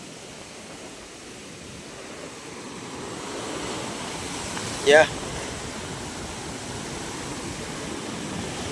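Sea waves wash against a beach hut, a steady loud roar of surf building slightly over time, with a brief sharp knock near the middle and a short spoken word.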